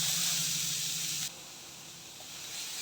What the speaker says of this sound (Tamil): திரும்பவும் இதே கடாயில் 2 ஸ்பூன் நெய் சேர்த்துட்டு துருவின 1 கப் கேரட்டை இதில் சேர்த்துக்கலாம்.